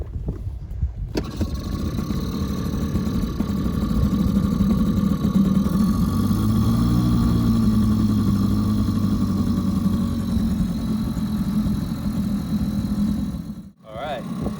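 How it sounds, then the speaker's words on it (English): A sailboat's engine idles with a steady low, throbbing drone close by, running continuously until a brief dip near the end. "Let's hope the engine works now."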